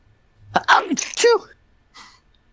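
A single sharp sneeze bursts out close by, followed a moment later by a faint, brief sniff or breath.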